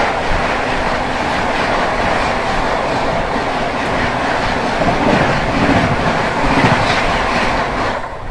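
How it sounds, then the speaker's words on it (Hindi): The New Delhi–Bhubaneswar Tejas Rajdhani Express rumbles past loud and close, with continuous wheel clatter and a dense roar of rail noise throughout. "सामने से आ रही है न्यू दिल्ली भुवनेश्वर तेजस राजधानी एक्सप्रेस"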